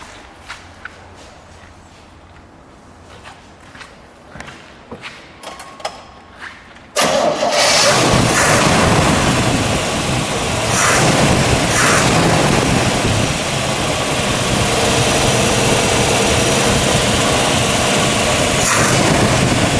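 A 1957 Chevrolet Corvette with a 283 V8 goes from a quiet stretch of small clicks and shuffles to an abrupt start, then a loud, steady, rumbling idle that holds close by for the rest of the stretch.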